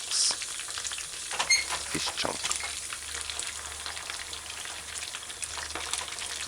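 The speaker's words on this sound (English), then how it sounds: "patiently but quickly, cautiously flip each fish chunk" Fish chunks for a baked beans stew frying on medium-low heat, a dense continuous sizzle with occasional soft knocks and scrapes as pieces are flipped, close-up and steady, with no talking.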